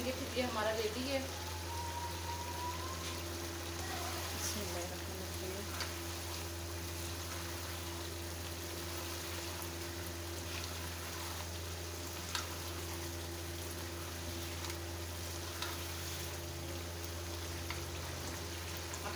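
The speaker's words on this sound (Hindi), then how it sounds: "बस थोड़ी देर और इसे भूनेंगे फिर ये हमारा रेडी है।" Korma frying in a pot gives a faint, steady low sizzle with soft scattered crackles, quiet and continuous throughout, with a brief voice near the start.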